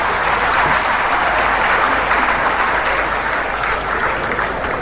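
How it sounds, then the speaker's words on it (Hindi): A large audience at a public inauguration and foundation-stone ceremony applauds loudly for a chief minister, producing a dense, unbroken wash of clapping that holds steady throughout, with no voices standing out. "जोरदार तालियों के साथ अभिनंदन मुख्यमंत्री जी का"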